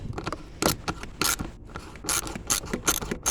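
Ratcheting 9mm socket wrench loosening the air intake on a 1999 Ford Explorer, with bursts of quick metallic clicking separated by short pauses, close by with no talking.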